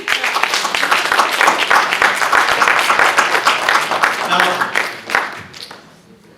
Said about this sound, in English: I need a round of applause for this